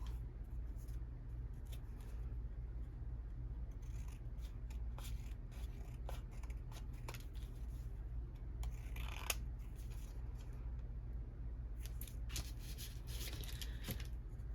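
Paper trimmed with scissors for a hidden paperclip craft: faint, intermittent snips and scraping rustles over a steady low hum, close by and quiet.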